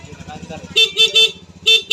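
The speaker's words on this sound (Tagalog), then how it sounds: "May na yung busina ni Kuya Wilson" A Honda Beat scooter horn beeps in short bursts, two quick honks then a third after a pause, over a low idling engine.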